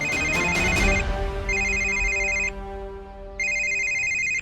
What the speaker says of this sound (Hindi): अरे ये मनोज भी फोन कर करके परेशान कर रहा है।